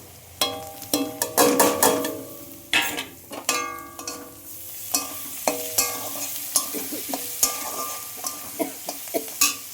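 Ginger-garlic paste fries in hot oil in a pan while being stirred, giving a steady sizzle broken by frequent sharp scraping strikes of the spoon against the pan. The strikes come in quick clusters throughout, and no one speaks.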